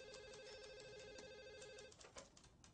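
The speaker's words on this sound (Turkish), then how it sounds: "Faysal, telefon sana." A telephone rings with a steady warbling electronic trill that stops partway through, followed by a faint handset clatter in a quiet room.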